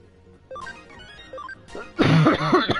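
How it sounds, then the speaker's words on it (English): Someone with a bad cough coughs harshly several times near the end while playing Digimon Story: Cyber Sleuth, following a stretch of quiet game music and beeps. "I've got that bad cough"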